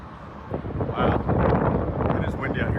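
Strong wind gusts outdoors buffet the microphone in a roaring rumble that swells after the first half second and stays loud, with some talking mixed in.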